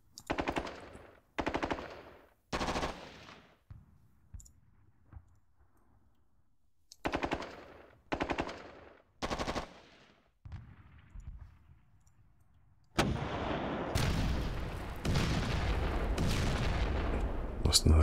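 War-game battle in a North African 1941 tank-warfare game: separated bursts of sharp gunfire and heavy artillery blasts ring out with quiet gaps between, then a dense, continuous roar of explosions and firing takes over toward the end.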